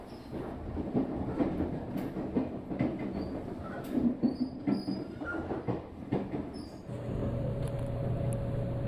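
The Nankai Rapi:t express train runs through Mikunigaoka station, a transfer point for the JR Hanwa Line, with steady rumbling wheels, rhythmic rail clicks and occasional squeals, heard from inside the carriage, ending in a droning hum.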